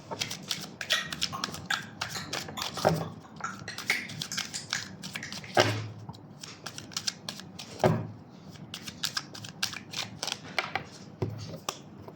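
Oracle cards are shuffled for a reading, producing quick papery riffles, taps and clicks in an irregular run of close, moderately quiet bursts with no talk.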